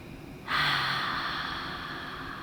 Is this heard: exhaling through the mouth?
yes